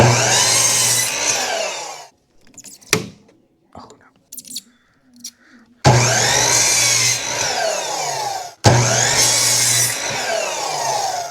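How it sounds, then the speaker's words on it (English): A power saw whines loudly in two separate bursts cutting a cedar fence picket, separated by a quieter stretch of handling and knocks. "Now we'll just cut it at 6 inches each time and make sure that each slope is facing in."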